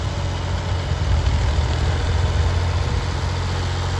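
A farm tractor idles close by with a steady, heavy low rumble that holds unchanged for several seconds, no voices over it.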